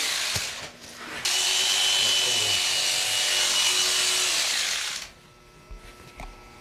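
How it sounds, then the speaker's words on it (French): Electric shears running steadily for about four seconds while shearing an alpaca's fleece, a loud continuous motor buzz that starts abruptly and cuts off, with quieter handling noises around it. "La raison pourquoi j'arrête toujours ma tondeuse, c'est pour éviter la surchauffe des lames."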